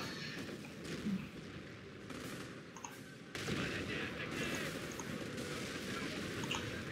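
Mortar and gunfire in a Company of Heroes 4v4 battle make a dense, continuous crackle of distant shots and blasts that swells louder partway through, with no voices over it.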